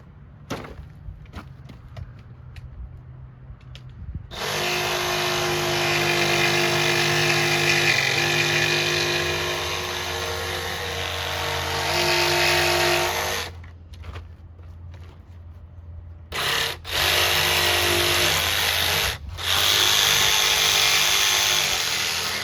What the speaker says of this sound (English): I'll grab my jigsaw so we can finish those cuts.